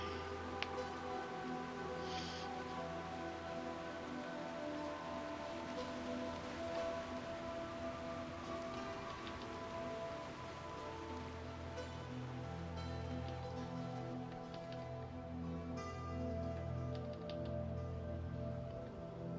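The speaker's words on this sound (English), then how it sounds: "Oh, the beautiful rain. Let's hear the rain," Steady rain ambience in World of Warcraft, a continuous even wash of falling rain with faint game music tones running underneath, no voices.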